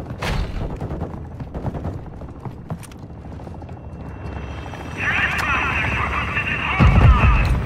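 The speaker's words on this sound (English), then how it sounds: "I guess it was the bots already shooting at me." Bots firing guns in the video game DMZ, bursts of gunfire scattered through dense game noise under talk, with a louder mechanical roar building near the end.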